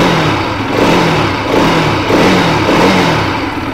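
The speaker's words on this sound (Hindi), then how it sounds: "अभी हम थोड़ा थ्रॉटल दे देते हैं।" A 2023 Bajaj Pulsar RS 200 motorcycle engine revs loudly and close, the throttle rising and falling in repeated surges over a rough idle.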